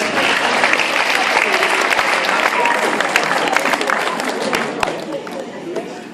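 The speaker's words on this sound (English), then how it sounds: "Give them a round of applause as well." A school hall audience at a high school leavers' event gives the prefects a warm round of applause, dense clapping with some crowd murmur that gradually fades toward the end.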